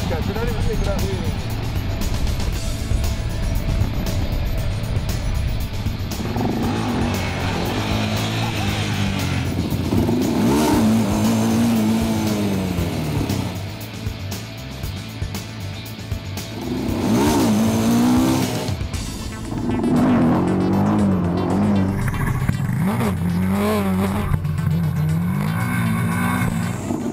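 Motorbikes race on a track, engines revving and droning steadily with rising and falling pitch sweeps as they accelerate, loud throughout, while people talk over the noise.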